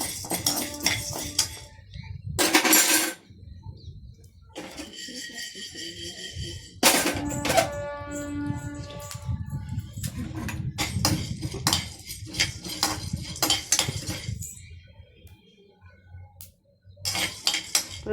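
Chana dal and urad dal roast in a pan while a metal spoon stirs and scrapes, giving intermittent clinks and clatters in uneven bursts with quiet gaps between them.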